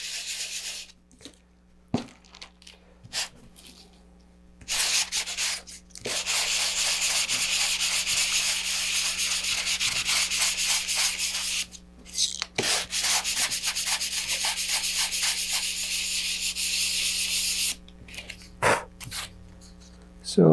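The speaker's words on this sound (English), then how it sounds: "You can start sanding and smooth out the surface." Sandpaper rubs against paper-covered model rocket fins in long, steady scraping bursts, broken by short pauses. The sound is close and fairly loud, and a voice speaks briefly in between.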